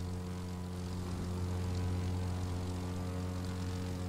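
Propeller airplane engine in the driving game The Crew 2, a steady droning hum with strong low tonal harmonics, constant and close, no voices.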